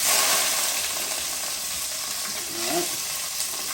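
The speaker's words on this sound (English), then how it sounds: "I got a pot with a little bit of oil in it, and we're going to take all of this and we're going to sear it off" Rough-chopped apple, orange, celery and red onion searing in a pot with a little oil, a loud steady sizzle and hiss that fades slightly, with a brief spoken word over it.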